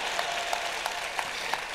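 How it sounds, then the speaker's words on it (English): Applause from an audience at a Star Wars Celebration convention panel: a short burst of steady, fairly loud clapping from many hands with a few sharper claps standing out, and no talking over it. "You can clap if you want."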